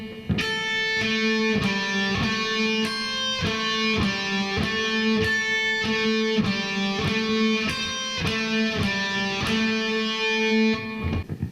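A clean electric guitar plays a quick, steady run of evenly picked single notes, repeating a short lick several times, played alone with no talking.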